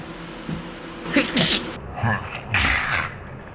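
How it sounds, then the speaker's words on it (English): A single loud sneeze up close, with a sharp inhale and burst followed by a second breathy burst, in an otherwise quiet room. "oh, I'm gonna sneeze."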